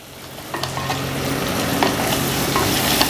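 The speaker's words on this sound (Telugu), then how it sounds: "జీడిపప్పు ఉల్లిపాయ ముక్కలు పచ్చిమిరకాయ ముక్కలు అన్నీ మగ్గుతున్నాయి కదా" Cashews, onion and green chilli pieces sautéing in a pan for a milk drumstick curry: a steady, close sizzle with light scraping stirs now and then, continuous and fairly loud.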